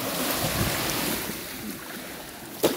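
Sea waves washing on the shore, a steady, soft hiss of surf with wind buffeting the microphone and a brief louder splash near the end.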